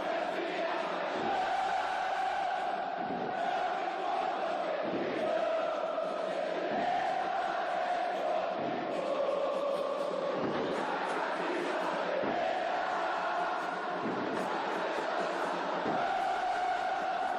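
Brazilian football stadium crowd chanting in unison, a dense roaring mass of voices with rhythmic surges and steady loud singing throughout, heard from within the stands.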